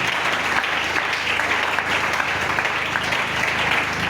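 Church congregation applauding the Lord during a worship service, a dense steady wash of many hands clapping together, loud and continuous throughout, with a faint voice beneath.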